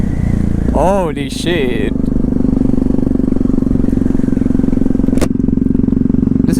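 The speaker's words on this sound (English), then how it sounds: "This bike backfires like crazy, bro." Yamaha MT-03 naked motorcycle engine running steadily close by, with a loud sharp backfire pop near the five-second mark; a man exclaims over the engine early on.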